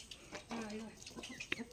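Country chickens raised as fighting roosters cluck and call briefly, fairly faint and mixed with background voices in a village setting.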